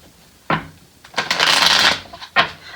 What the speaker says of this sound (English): Just give me a second to shuffle these other cards that are so beautiful.